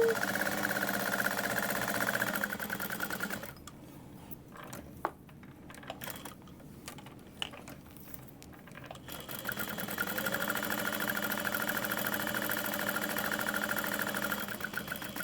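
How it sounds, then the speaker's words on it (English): A sewing machine runs in a steady, fast mechanical whir while stitching all the way around, breaks off for a few seconds of quiet handling clicks, then resumes the same even drone. "And we'll sew all the way around."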